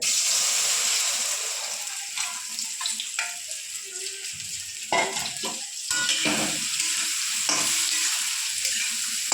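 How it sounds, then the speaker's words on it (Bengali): Soybean chunks fry in hot oil in a home kitchen for Bengali soybean and egg curry, giving a steady broadband sizzle broken by louder bursts and clinks as they are stirred and tossed, with no talking. "তেল গরম হয়ে গেছে এবার আমি সোয়াবিনটা ভেজে নেব"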